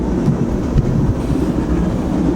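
A train rolls past near a 2018 Ford F150 diesel pickup, a steady broadband rumble with faint rhythmic rail clatter holding constant for the whole stretch, fairly loud and with no talking.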